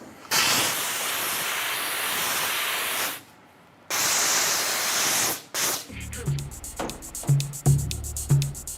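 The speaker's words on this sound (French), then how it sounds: "nettoyage vapeur." Steam cleaner stripping the sole and upper of a sneaker gives off loud, steady hissing bursts of several seconds with a short pause, followed by shorter choppy spurts and clicks toward the end.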